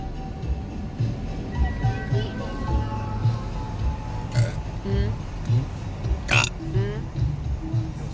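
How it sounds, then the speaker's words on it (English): Someone burps repeatedly at an outdoor holiday festival of lights, in short rough bursts over steady background noise, with people talking nearby. "Stop burping now."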